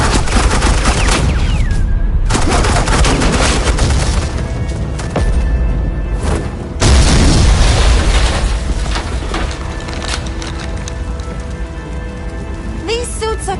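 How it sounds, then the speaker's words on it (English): Suppressing gunfire in the video game Batman: The Enemy Within: dense, loud volleys of shots and booms rattle on continuously, with voices speaking over the barrage. "Suppressing fire."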